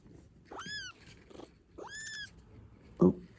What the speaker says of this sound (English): Oh, no, he's squealing.